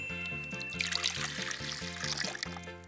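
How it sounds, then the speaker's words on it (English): Lemon juice is poured into a giant pitcher, a steady close trickle over a looping musical background with a rhythmic beat. "so we need to now pour this in our giant pitcher."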